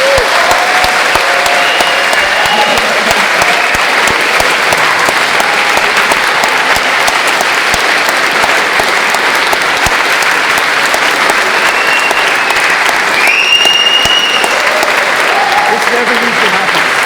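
Sustained audience applause for a rapper at a live Q&A event, a dense, loud wall of clapping that holds steady for the whole stretch with faint voices mixed in.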